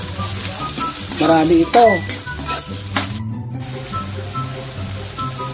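Pork lungs for bopis sizzle and crackle in a hot pan, with bursts of stirring and scraping over a steady frying hiss, close up, and a brief voice speaking over the cooking.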